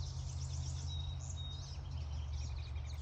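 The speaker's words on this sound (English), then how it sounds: "Love listening to the birds." Birds chirp and sing on a farm in spring, light high twitters scattered over a steady low rumble of background noise, faint and somewhat distant.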